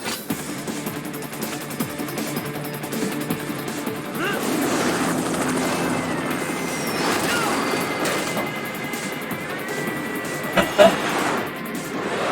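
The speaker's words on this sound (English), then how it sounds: "Bring the chopper around." A helicopter in an action game, a loud, continuous rotor roar and mechanical rumble under a busy mix of crashes and effects.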